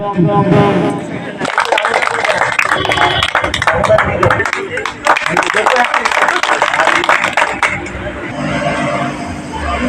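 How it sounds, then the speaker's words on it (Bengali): Audience hands clapping at a clothing donation ceremony ahead of Eid, a dense, steady crowd applause with a loud announcer's voice talking over it throughout. "আপনারা একটু জোরে হাততালি দিন"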